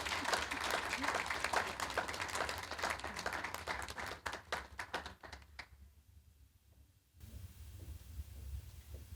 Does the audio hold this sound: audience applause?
yes